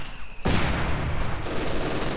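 Sustained MG-42 machine-gun fire and battle noise from the Company of Heroes 2 war game, a loud continuous rattling burst starting abruptly after a brief quieter lead-in and running unbroken to the end.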